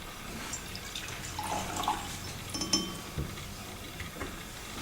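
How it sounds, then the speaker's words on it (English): Quiet trickle of tap water running into a glass beaker in a laboratory, with faint clinks and drips over soft room noise. "I pour water from the tap into the beaker."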